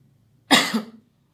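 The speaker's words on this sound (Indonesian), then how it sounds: "Batuk, tapi ini bukan corona ya" A single harsh cough, close and fairly loud, bursting out once in otherwise quiet surroundings.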